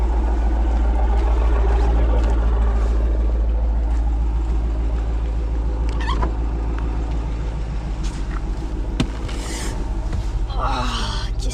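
A Dodge Challenger on a road test, its engine a steady, loud low rumble that fills the interior throughout, with brief higher whines and hiss from the road near the end.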